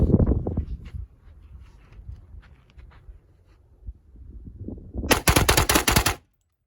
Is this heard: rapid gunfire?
yes